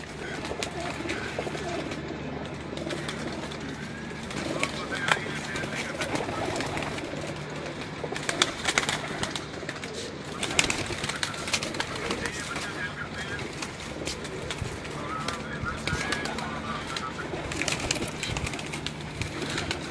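Pigeons on a rooftop loft coo repeatedly over a steady background, with scattered sharp flutters and knocks and people talking intermittently nearby.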